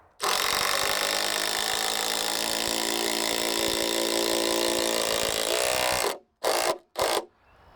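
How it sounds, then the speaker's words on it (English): A power drill drives a 3-inch deck screw into timber for a deck stair build, a loud sustained whirring grind lasting about six seconds, followed by two short bursts as the screw is seated. "we're going to temp these in place with 3-inch deck screws just to make sure they don't move around"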